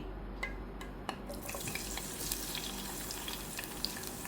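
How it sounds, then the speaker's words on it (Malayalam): Salted bitter gourd pieces fry in coconut oil. A fizzing sizzle thickens and fills out after the first second, then stays as a steady, close hiss with small pops and no voices. "ഇനി ഇതിലേക്ക് നമ്മൾ ഉപ്പ് പുരട്ടി വെച്ചിരിക്കുന്ന പാവയ്ക്ക ഉണ്ടല്ലോ, അത് നമുക്ക് ഒന്ന് ഇട്ട് കൊടുക്കാം."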